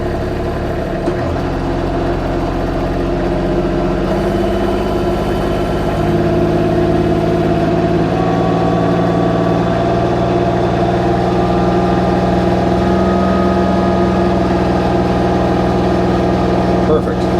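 A tractor engine runs steadily while its rear PTO, driving a Woodland Mills WC68 wood chipper, is brought slowly up to 540, a constant mechanical drone with a slight lift in pitch partway through.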